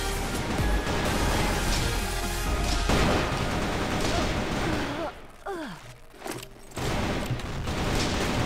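Thor pistol shots from CF West, a first-person shooter game, popping in a dense burst of gunfire over busy game noise, with a brief lull near the middle before firing resumes; a voice talks briefly.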